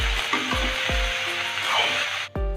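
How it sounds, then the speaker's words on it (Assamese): Bottle gourd tips and potatoes are stir-fried in a pan: a soft sizzle runs under repeated scraping knocks of a spatula against the pan, with a sharper clatter near the end. "আৰু এইখিনি মাজে মাজে লৰাই ভাজি ল'ম।"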